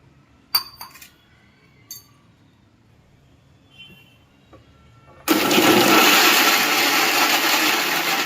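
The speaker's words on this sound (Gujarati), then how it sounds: "થોડુંક પાણી નાખી દેવાનું" Water splashes into a hot pan of spiced masala gravy for an ivy gourd (tindora) curry, setting off a loud, steady sizzling hiss that fills the last three seconds after a few soft clinks of utensils.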